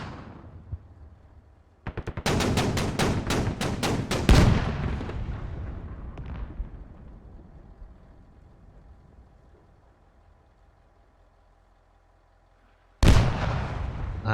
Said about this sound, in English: ZBD coming in with that autocannon.